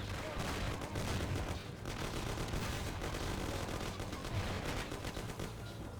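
Sustained gunfire fills a Mafia video game cutscene shootout: dense, rapid volleys and bursts crackle without a break for the whole stretch, loud and close.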